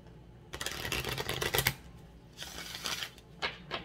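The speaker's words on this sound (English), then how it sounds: "I'm going to restart this shuffle for you guys." Tarot cards riffle and flap in two quick bursts of shuffling, close and crisp, separated by a brief pause.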